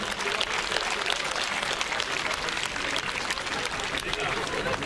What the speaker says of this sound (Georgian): ამიტომ ტაში მათ.